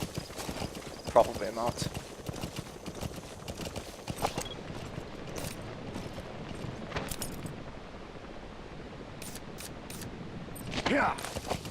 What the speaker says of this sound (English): They might think it's a wild horse.